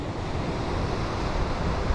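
Ocean waves wash in at Scotchman's Cove beach, a steady broadband rush of surf mixed with wind buffeting the microphone, continuous and fairly loud, with no voices.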